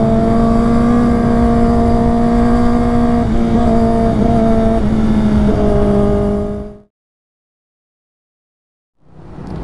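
Honda Click scooter carrying a passenger passes on a ride, a steady droning engine hum with a few pitch shifts that cuts to silence near the end before another sound begins to rise.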